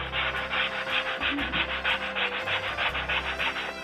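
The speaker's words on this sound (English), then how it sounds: "I'm just going to sand these bars now, these racing bars down." Racing bars are sanded by hand in a steady back-and-forth rhythm of rasping strokes, close and fairly quiet, with no talking.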